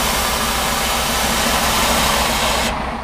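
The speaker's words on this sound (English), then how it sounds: "Did you hear the sound the bellows made as the air came out?" A strong, steady hiss of air escaping from a bus's suspension bellows, loud and close, over a low engine hum, cutting off abruptly near the end.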